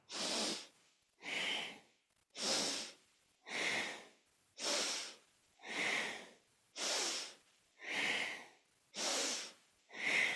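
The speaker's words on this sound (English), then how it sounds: "breathing as deeply as the lungs will allow" Deep, forceful breaths during a kundalini yoga lung kriya, ten strong inhale-exhale bursts in a steady rhythm about once a second, loud and close with no talk.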